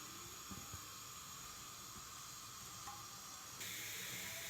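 Gram flour (besan) roasts in a pan with a soft, even sizzling hiss, faint and close, growing slightly brighter toward the end.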